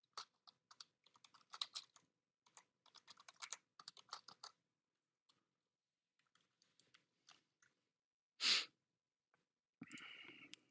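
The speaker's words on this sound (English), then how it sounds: "Let's type it out here." Close, quiet typing on a computer keyboard comes in quick bursts of clicky keystrokes separated by short pauses, followed by a single sharp noise and a brief rustle near the end.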